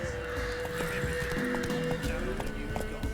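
Horse in the video game The Witcher 3 gives a whinny over rhythmic clip-clop hoofbeats and galloping, fairly close and moderately loud amid game ambience.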